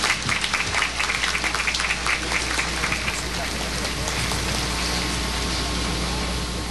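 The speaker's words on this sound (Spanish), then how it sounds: "Creo que merecen nuestro aplauso todos ellos." An audience at a Chrism Mass applauds in a broad, sustained wash of clapping that fills a large space, strongest at first and then settling into a steady even roar.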